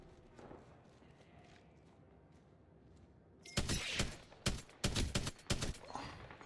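Gunfire from smart bullets in a video game, a quick cluster of sharp, loud shots following a quieter stretch of ambient game noise, with several reports fired in uneven rapid succession.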